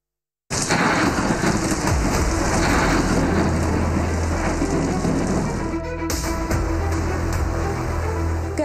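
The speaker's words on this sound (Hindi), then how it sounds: "कराची में मॉनसून का चौथा स्पेल, दूसरे दिन भी कहीं हल्की और कहीं तेज बारिश।" Heavy monsoon downpour in Karachi, a loud, dense roar of rain hammering surfaces with low thunder rumbling beneath, continuous for over eight seconds after an abrupt start.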